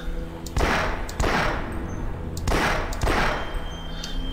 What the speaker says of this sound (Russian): Прицельная стрельба.